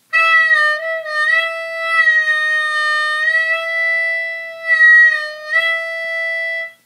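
A sustained reedy harmonica tone on a drawn breath, its timbre wavering and bending as the sound is shaped, holding steady with brief dips.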